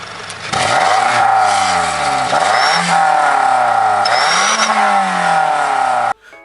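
Car with a fake turbo whistle device fitted in its exhaust pipe, a loud engine rising through repeated revs with a thin whistle riding on top, then cutting off abruptly.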